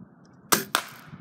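A Red Ryder BB gun fires twice in quick succession. Each shot is a sharp, close snap with a brief tail, and the two are about a quarter second apart, with no talking.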